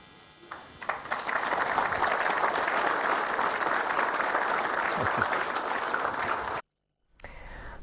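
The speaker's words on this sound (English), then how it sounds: "We'd be very happy if you just applaud and help us making this a great change for basketball" Audience applause at a basketball event, clapping rising quickly from a quiet start into a steady, full roar that holds, then cuts to sudden silence before faint background sound returns.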